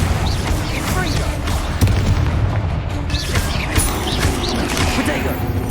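Blast spells cast in Hogwarts Legacy on PS5 burst out in a dense run of booming impacts and crashes, loud and close over a constant rumbling backdrop, with several sharp hits stacked one after another and no clean pauses between them.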